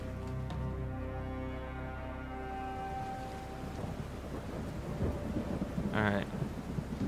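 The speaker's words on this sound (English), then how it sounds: "it's still raining" Rain in Roblox ERLC hisses steadily as a low thunder rumble rolls through, with a brief chirping tone near the end over the constant downpour.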